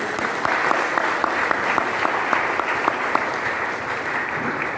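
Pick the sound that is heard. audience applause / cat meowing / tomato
audience applause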